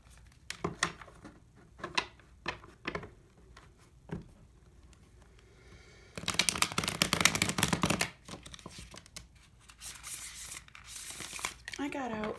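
Tarot cards shuffled by hand at close range: a few soft card flicks at first, then a dense, continuous riffling burst lasting about two seconds, followed by more scattered rustling and shuffling until the end.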